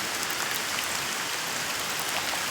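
Heavy rain pours down steadily across a flooded area, a dense, even hiss of drops hitting surfaces with no pauses or voices.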